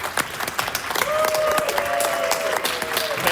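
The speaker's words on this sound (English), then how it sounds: "Give them a round of applause" A live convention audience at Gallifrey One claps warmly in sustained applause, dense and steady, with a few cheers and a whistle-like tone rising above the crowd.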